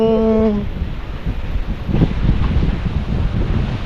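Strong monsoon wind roars and buffets the microphone in a steady, loud rush after a brief tonal sound fades at the start.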